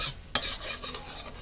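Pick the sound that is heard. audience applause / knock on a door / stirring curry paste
stirring curry paste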